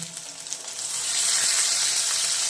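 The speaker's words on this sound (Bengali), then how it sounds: "দিয়ে দেবো বাটি ধোয়া জল" Ginger, cumin and green chilli paste sizzles in a pan, then flares into a louder, steady hiss as bowl-rinse water is poured in.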